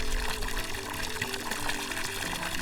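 Water gushes strongly out of a pipe into an old fish pond, a continuous loud rushing and splashing pour with no break.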